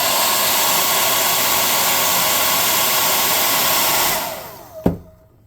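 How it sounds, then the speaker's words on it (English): A hot air gun blows a loud, steady roaring hiss while drying a coat of paint, then switches off and the airflow quickly winds down with a brief clunk, followed by near silence. "I'm going to use my hot air gun to speed the process up."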